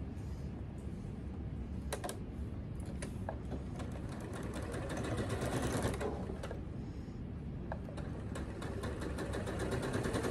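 A Handi Quilter longarm quilting machine stitches a tote bag, a fast, steady mechanical whir with rapid needle ticking that runs without pause throughout, close and clear.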